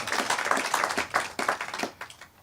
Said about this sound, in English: Let's give them all a nice round of applause as well.